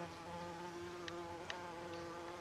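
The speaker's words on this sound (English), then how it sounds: "Thank you very much, bee." A bee buzzes in a vegetable garden, a faint, steady hum close by with a few soft ticks.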